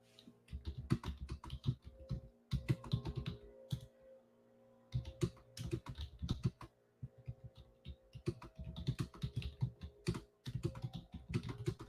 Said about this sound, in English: I'm typing in our group, okay?